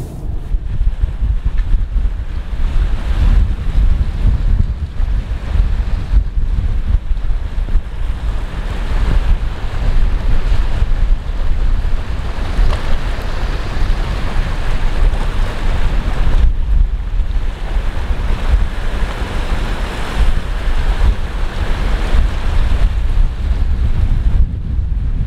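Waves on a choppy lake at a dam, with strong wind buffeting the microphone and a constant loud rush of water and gusts and no talk.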